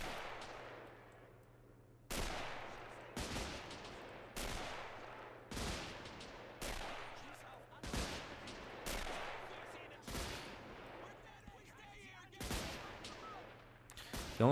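Rifle and machine-gun fire crackle through a WW1 battle in the Men of War Assault Squad 2 game, with sharp repeated volleys every second or so over a low steady rumble, a voice speaking in between.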